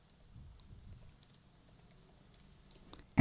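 Quiet, steady tapping on a computer keyboard, soft irregular keystrokes close up, alone with no voices, ending in a sudden louder click.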